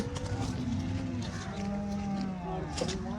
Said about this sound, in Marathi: ही बघू शकता ही कच्ची गाय आहे